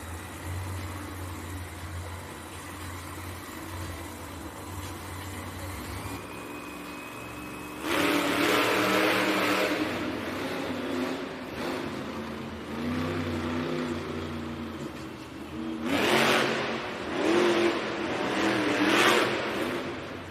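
The Zombie monster truck's engine at a Monster Jam arena event in Cincinnati roars and revs repeatedly in surging bursts after a quieter opening, with a large crowd-like wash behind it.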